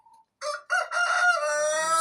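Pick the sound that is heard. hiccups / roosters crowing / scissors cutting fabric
roosters crowing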